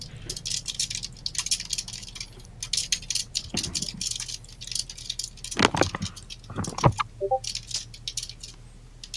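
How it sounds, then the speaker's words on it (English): Keyboard typing sounds in scattered, irregular bursts of quick clicks, fairly faint and close, with small gaps between flurries. "That's some hecka typing going on."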